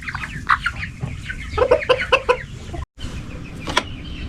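Buff chickens cluck in short, close bursts, with several rapid calls clustered together, a brief silent gap midway and another call near the end. No one speaks.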